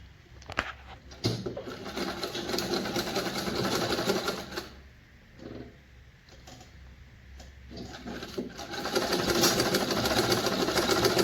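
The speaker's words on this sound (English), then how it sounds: "I will start sewing half of an inch." A sewing machine runs close by, stitching a ruffle sleeve with a half-inch seam. Its steady whirring needle rhythm pauses briefly in the middle, then speeds up again toward the end.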